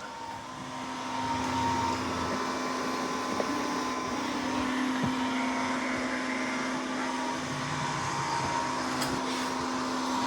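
MOVA Z60 robot vacuum hums steadily at moderate volume while cleaning along the edges of a room, with a constant motor drone and faint bumps, with no voices.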